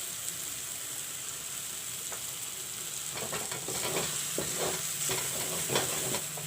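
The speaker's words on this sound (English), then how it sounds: "And fry the masala." Masala fries in a pan with a continuous, moderately loud sizzle. Scraping stirs repeat at irregular intervals through the second half, with no talking.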